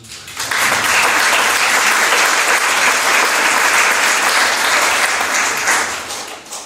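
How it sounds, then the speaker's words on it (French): A crowd bursts into dense, loud applause that holds steady for about six seconds, then tapers off at the end. "Est-ce qu'on peut l'applaudir?"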